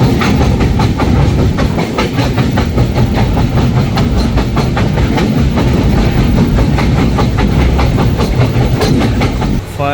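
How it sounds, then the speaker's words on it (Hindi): A Mumbai local train runs on rails, loud and steady throughout with a rhythmic clickety-clack of wheels over track joints and a continuous rumble, heard from on board with no talk. "लोकल ट्रेन पे पहुंच गए"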